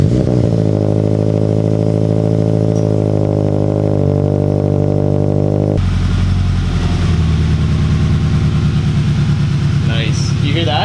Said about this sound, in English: you guys get to hear the first startup.